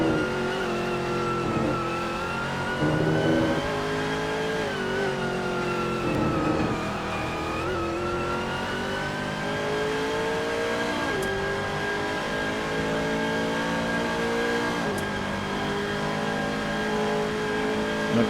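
Onboard engine sound of a Bentley GT race car in a racing video game on the Nordschleife, a loud steady roar holding high revs with gradual pitch swells and dips through gear changes, plus faint tire squeal.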